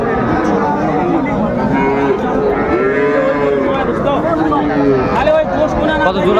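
Several cattle, including young bulls and heifer calves, moo repeatedly at Aftabganj cattle market, long drawn-out calls overlapping one another, with people chattering in the background throughout.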